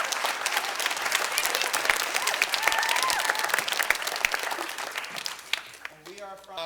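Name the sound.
audience applause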